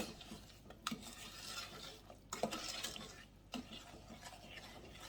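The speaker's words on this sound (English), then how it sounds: "I'm just going to stir that" Evaporated milk being stirred for a German chocolate cake: a soft, steady scraping and swishing with a few light clicks of the utensil against the bowl or pan, up close and quiet.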